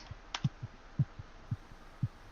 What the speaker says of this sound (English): I like the heartbeat noise.